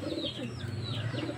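Pigeons coo softly in a loft, with repeated low throaty calls and faint chirps close by over a quiet steady background.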